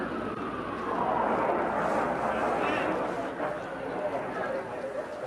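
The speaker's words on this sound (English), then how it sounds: "Just the sound of a plane. Guard jets." Guard jets passing overhead during the September 11 attacks, a broad sustained airplane roar that swells and then slowly fades, heard under steady background noise and overlapping talk.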